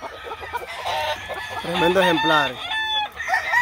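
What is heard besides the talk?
rooster clucking and crowing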